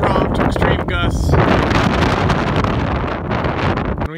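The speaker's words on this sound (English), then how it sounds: "Winds were blowing snow, strong to extreme gusts." Strong to extreme mountain wind gusts blowing snow roar continuously into the microphone as loud, buffeting broadband noise, with a voice briefly audible near the start.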